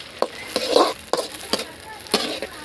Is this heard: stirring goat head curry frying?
yes